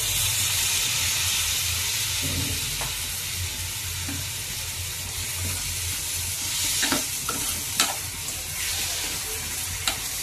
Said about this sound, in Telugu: ఈ టమాటా ముక్కలు వేసేసుకుందామండి.